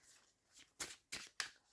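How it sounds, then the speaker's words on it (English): Tarot cards shuffled by hand, a soft riffle followed by three quick, crisp shuffling bursts close to the listener, with no talking. "I'll shuffle 2 decks"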